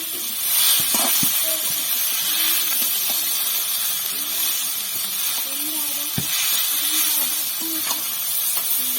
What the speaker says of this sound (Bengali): এবার আমরা চাউমিন সেদ্ধটাকে দিয়ে দিচ্ছি